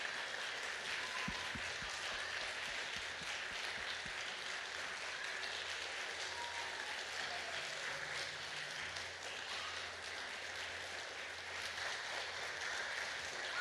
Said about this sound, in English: can we have an incredible thank you applause this morning